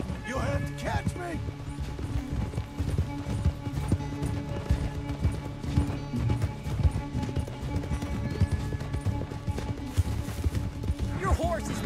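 Horse hooves galloping in Red Dead Redemption 2, a rapid continuous clip-clop close up with a deep rumble and a brief neigh, while voices talk over the ride.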